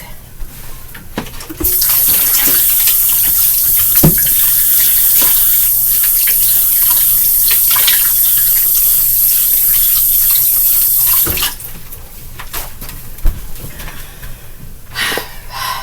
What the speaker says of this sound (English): Now I'm going to slip over, wash my hands here quick.